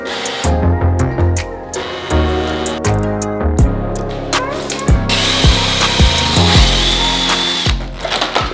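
A power drill whirs through wood in repeated short bursts while boring a hole to a set depth for a stair railing, the motor pitch rising and falling as the bit bites, loud and close.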